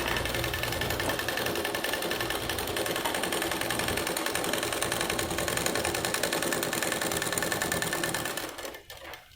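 A sewing machine stitching a blouse runs steadily at speed with a fast, even mechanical whir and needle clatter, loud and close, then winds down and stops near the end.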